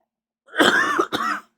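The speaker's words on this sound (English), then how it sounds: "Here come the coughs again" A single harsh cough-like throat clearing, loud and close, broken into two quick bursts with a brief gap between them.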